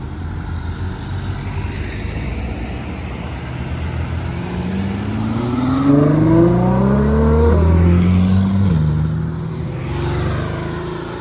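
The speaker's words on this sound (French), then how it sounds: "Oh putain la 812 GTS bleue. Incroyable." Blue Ferrari 812 GTS passes close by on a street in Deauville, its engine note rising into a loud revving sweep that climbs and shifts as the car accelerates past, then fades slightly.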